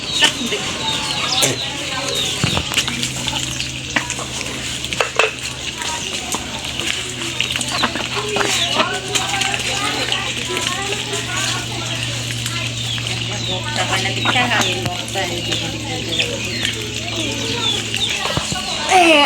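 Chickens cluck and squawk in short bursts around a farmyard, with people talking and children's voices mixed in over a steady low hum.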